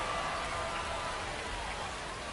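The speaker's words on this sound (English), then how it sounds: "Still seeing a little bit of rain falling" Light rain falling during a baseball game, steady soft hiss of drops across the field, constant and diffuse with faint crowd ambience beneath.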